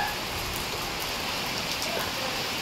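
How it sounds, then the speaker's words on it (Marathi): Monsoon rain falling at a hill resort near Trimbakeshwar makes a steady, even wash of patter with scattered drops, moderately loud and continuous. "इथे मस्त पाऊस चालू झाला बघा तुम्ही"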